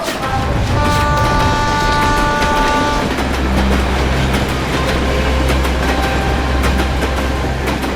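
A train passes close by at a railway station, with a loud continuous rumble and rattle of wagons and a sustained horn-like tone early on, steady and dominant throughout with no voices.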